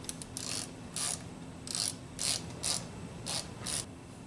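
Ratchet clicking on the airbag assembly bolts of a Honda Civic: several short bursts of quick metallic ratcheting, close and fairly quiet, separated by brief pauses, with no talk.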